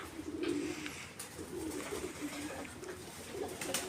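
Pigeons coo in a series of soft, low calls, fairly close and repeated over a light outdoor background hiss while the flock is out flying.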